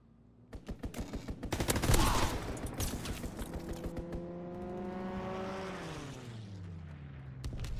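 Rapid bursts of strafing-run gunfire rattle in a Call of Duty game, building into a dense fusillade, then a droning aircraft engine whose pitch sweeps downward as it passes.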